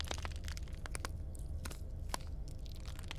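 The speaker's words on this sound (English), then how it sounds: "I don't like the crunching" Wet, crunching bites and cracking crushes from the video game Slay the Princess, repeated irregular snaps over a low rumbling ambient drone.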